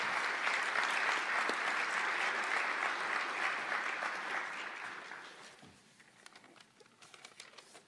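Audience at a press event applauding the new New England Patriots head coach Mike Vrabel: loud, dense clapping for about five seconds, then fading to scattered claps and camera clicks.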